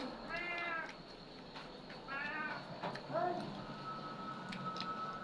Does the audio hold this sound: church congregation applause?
no